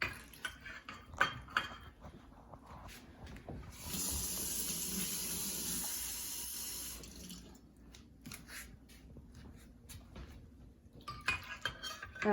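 Warm tap water runs into a kitchen sink for a few seconds in the middle, flanked by clinks and knocks of dishes and utensils, all fairly quiet.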